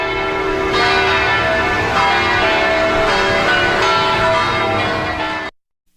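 A polished bronze bell ringing with a bright, rich tone, struck repeatedly so that the overlapping resonance sustains evenly, then cutting off abruptly.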